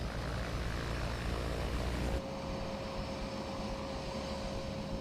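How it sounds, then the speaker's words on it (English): A Grumman Mallard, a twin turboprop seaplane with a V-shaped hull and underwing pontoons, gives off a steady engine drone. A loud low rumble drops away after about two seconds, leaving a lighter hum with a steady tone. "The Grumman Mallard is a twin turboprop design"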